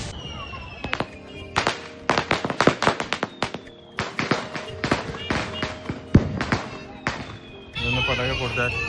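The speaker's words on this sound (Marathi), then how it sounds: "फटाके फोडतात." Firecrackers burst on an open ground during the Bhaubeej festival, a rapid irregular string of loud, sharp cracks and pops, with people talking between the blasts.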